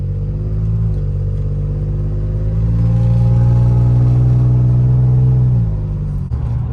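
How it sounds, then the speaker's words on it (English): Exhaust of a lifted 2007 Toyota Tacoma on 33-inch tires revving, a loud close droning rumble that climbs in pitch, holds a steady raised tone for a few seconds, then drops off abruptly. "I'm going to give some gas because that is where my exhaust comes out at"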